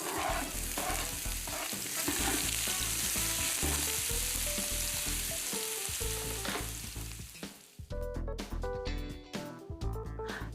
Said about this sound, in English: I start off by sauteing the vegetables until they are tender